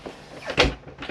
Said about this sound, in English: As you can hear there, the door's not shut fully.